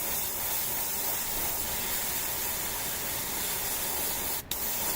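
Airbrush spraying paint onto an Adeptus Mechanicus Pteraxii Skystalker tabletop miniature, a steady close broadband hiss running throughout with a brief dip near the end.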